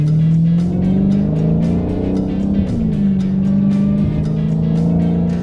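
Dodge Challenger SRT Hellcat muscle car with a 700-horsepower engine, giving a loud, steady, deep rumbling drone with a faint rhythmic pulse, heard close and continuously.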